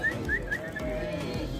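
Young ewes in a livestock pen at a sheep sale bleat briefly at close range, over a low steady background with a few high bird chirps.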